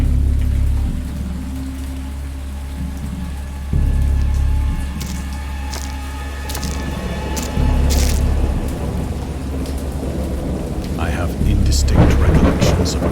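A heavy thunderstorm: steady rain hisses and patters on surfaces while deep rolling thunder rumbles in repeated low booms, growing louder and more crackling toward the end.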